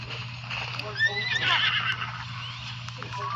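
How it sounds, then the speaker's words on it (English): Video game horses neighing and whinnying near a stable, several high, wavering calls over a low steady hum, with hooves clopping faintly beneath. "More horses?"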